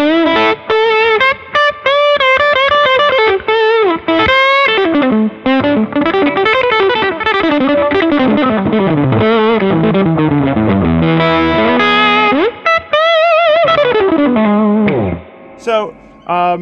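Overdriven electric guitar soloing with distortion and a touch of reverb, fast bending lead lines played loud and continuous, with brief gaps between phrases.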